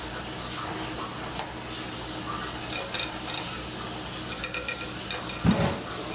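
Lemon tart filling heating in a pot as it starts to boil, giving a steady soft bubbling hiss with occasional stirring scrapes and clinks, close and continuous with no talk.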